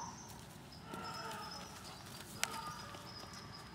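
Soft hoofbeats of a horse walking down the center line in a dressage arena, faint and steady, with a brief sharp knock partway through.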